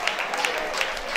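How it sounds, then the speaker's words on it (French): An audience applauds at a French prize-giving ceremony as performers leave the stage, a steady wash of clapping with a few sharper claps standing out, with voices mixed in. "On applaudit les dauphins pendant qu'ils se retirent"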